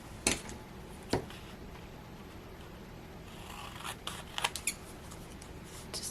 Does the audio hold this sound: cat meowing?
no